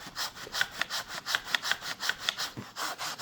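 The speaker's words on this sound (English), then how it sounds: "now I'm going to go and take the little scrub brush" A small scrub brush worked gently back and forth into carpet fibers gives rhythmic rasping strokes, about a dozen evenly paced scrubs close up with no talking.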